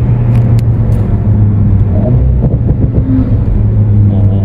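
A car rumbles past nearby, its engine revving energetically over a constant low road drone, heard from inside an Alpine A110S on a test drive.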